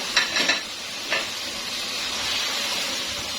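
Balochi chicken karahi with green chillies is stirred in a pan: a few quick metallic scrapes at first, then a steady, even sizzle.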